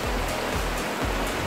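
A river rushes steadily near a waterfall, a loud, continuous roar of water close by with no voices.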